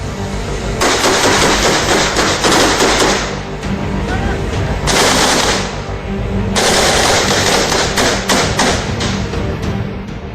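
Rapid, loud bursts of automatic gunfire from soldiers storming a building, sustained rattling volleys with brief pauses, very close and dense.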